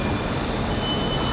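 An LRT Line 2 light-rail train in Manila, heard as a steady, loud rumble of rolling rail cars with a faint high whine on top and no voices.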